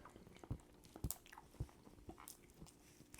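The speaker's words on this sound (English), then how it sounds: "my munching is heard on the microphone" Close, quiet crunchy biting and chewing on crab, several evenly spaced munches picked up near a microphone, with no talk over it.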